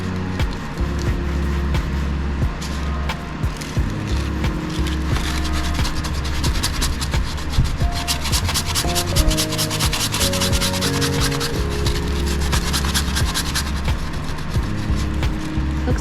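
Dried oil paint being sanded and scraped off a wooden palette box, a steady continuous rubbing and grinding texture that stays loud and close throughout, with no talking.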